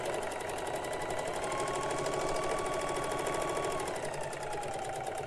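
A sewing machine stitches an envelope pillow cut from a Christmas tablecloth, running nonstop in a fast, even mechanical whir with a rapid rhythmic chatter, close and steady throughout with no talking.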